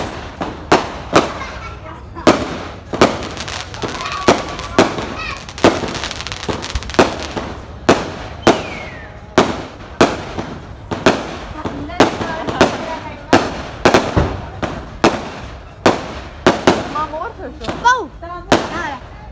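Fireworks go off at night in Charsadda, Pakistan, as a long run of loud, sharp bangs and crackles, some spaced out and some in quick clusters, with faint background sounds between the blasts.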